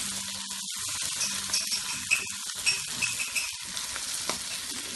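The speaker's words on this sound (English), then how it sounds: "So I'll just give it a quick little saute." Mutton pepper fry with mashed tomatoes sautéing in a pan, giving a continuous close sizzle broken by repeated clinks and scrapes of a spoon stirring against the metal, with no talking.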